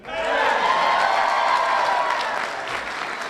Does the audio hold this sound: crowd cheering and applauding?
yes